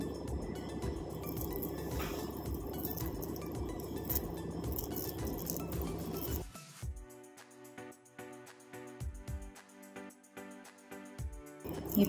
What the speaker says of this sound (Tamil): நல்லா பீட் பண்ணிடணும்.